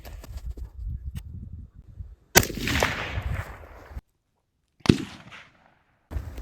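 Two sharp, loud shots from a suppressed AR-15 rifle ring out a few seconds apart, each a hard crack of about 110 decibels followed by a brief rolling echo, with quieter rustling before the first.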